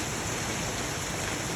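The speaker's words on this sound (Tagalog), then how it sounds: "Nakakatuwa ang patak ng ulan." Steady heavy rain pours down outdoors as a dense, even hiss of countless drops with no pauses, loud and close, and no voices.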